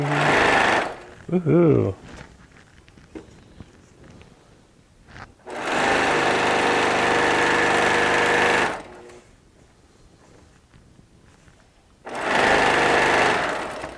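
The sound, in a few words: sewing machine stitching a quilt seam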